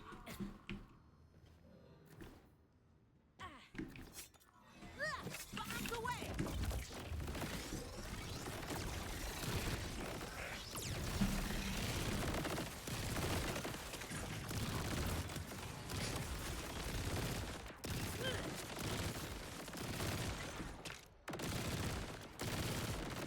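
Rapid gunfire in the video game Borderlands 4, dense sustained bursts of shots with mechanical clatter, starting after a few quieter seconds and continuing loudly for most of the clip with brief gaps.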